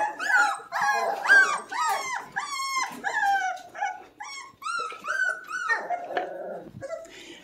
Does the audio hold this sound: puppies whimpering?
yes